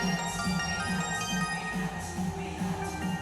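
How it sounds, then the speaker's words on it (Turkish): A mobile phone rings with a repeating electronic tone pattern, pulsing regularly at moderate volume under faint background sound. "Telefonu çalıyor bir baksana."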